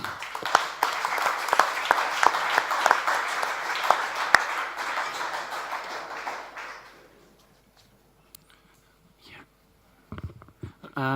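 Audience applause at a sommelier competition final, loud dense clapping for about seven seconds that fades out, followed by near silence with a few faint handling sounds and brief murmurs.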